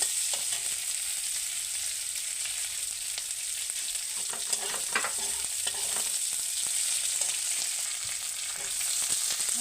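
Onion with slit green chillies fries in a pan, a steady hiss and sizzle of hot oil running throughout, broken by occasional stirring scrapes and spatters, close and with no talking.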